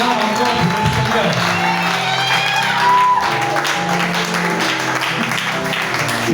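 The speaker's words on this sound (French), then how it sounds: "Acclame encore pour le Seigneur" A church congregation cheering and applauding for the Lord during a French-language service, a continuous crowd roar of clapping and shouts with a voice speaking over the noise throughout.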